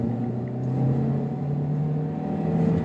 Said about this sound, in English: that's the only time you really hear the engine. It's when you plant your foot.